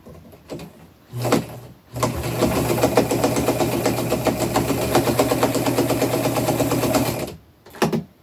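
A sewing machine stitches gathered fabric onto a shirt. A few short bursts come first, then one long, steady run of rapid, even stitching that lasts several seconds. It stops, and a brief burst follows.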